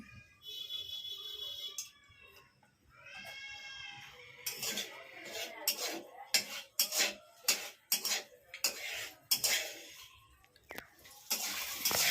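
Whole spices are tipped into a pan while cooking a jackfruit (echor) dish. After a few seconds of soft tonal, voice-like sounds, a run of sharp clinks and clatters follows.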